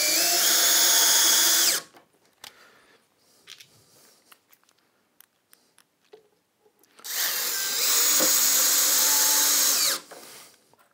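A power drill drives washer-head pocket hole screws into wood while building simple Japanese-style furniture, two loud sustained whirring bursts of a couple of seconds each, separated by quieter handling clicks and knocks.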